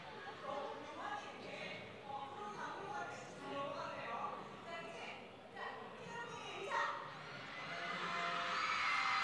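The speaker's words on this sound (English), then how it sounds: "Gets a big cheer from the crowd." An arena crowd cheers at an esports finals stage event as a player greets fans. A broad wash of cheering and whoops sits under a speaker's voice, then swells louder toward the end.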